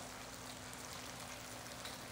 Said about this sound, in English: I want the sound of caramelization